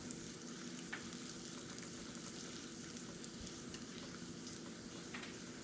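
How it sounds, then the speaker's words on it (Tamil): Cumin, mustard seeds and a dried red chili sizzle and crackle in hot coconut oil as a tempering for a cabbage and moong dal kootu, a soft, steady frying hiss with scattered small pops throughout. "இந்த ஜீரகம் கடுகெல்லாம் நல்லா பொரிஞ்ச வாட்டி"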